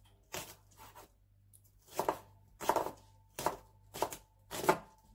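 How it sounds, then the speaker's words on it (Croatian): Knife finely chopping onion on a board, about six or seven crisp bursts of rapid cuts in loose rhythm, close and fairly quiet, with no talk. "Evo, ja ću početi sa ovim lukom. Lepo ću to sitno da iseckam,"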